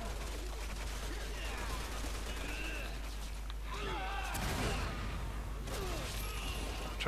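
Gunfire and whooshing debris in Resident Evil 6 on a rooftop stage, dense and constant with a sharper burst near the middle, under ongoing game noise and a voice talking.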